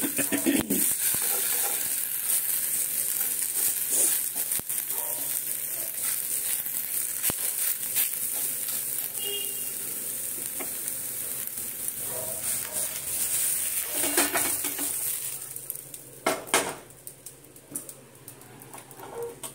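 Steady crackling sizzle of battered food frying in hot oil, continuous and close, with scattered clicks and scrapes from a utensil lifting pieces out; no talk, briefly quieter near the end.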